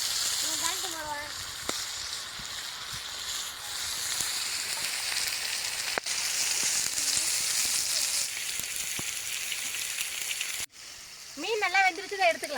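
Theli fish, caught from a river, frying in hot oil with a steady, close, crackling sizzle throughout, joined by a voice near the end.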